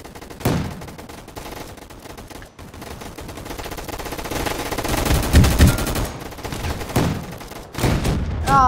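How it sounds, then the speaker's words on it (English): Shotgun gunfire in a Roblox first-person shooter game, with repeated loud blasts and rapid bursts of shots over a busy game soundscape that lasts the whole stretch. "he keeps on using his little shotgun and he goes absolutely off"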